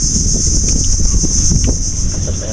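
Wind blows steadily over an open fishing boat, a constant close rush of noise with a high whistling tone and some small knocks.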